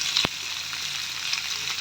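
Sliced onion and capsicum frying in a pan for restaurant-style chili chicken, a steady close sizzle with a single clack of the stirring spoon near the start.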